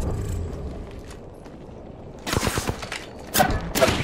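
Gunfire in Warzone: after a quiet stretch with faint background rumble, two close bursts of rapid shots ring out sharply, one cluster followed shortly by another.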